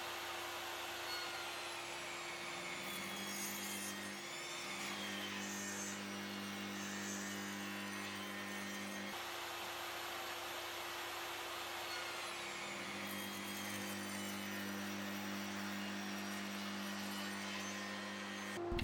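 Table saw with a feather board cutting wood to make an L-shaped piece for a floating frame, the blade's steady whining drone broken by two long stretches where the pitch shifts and strains as it cuts, with a dust-collector hum throughout.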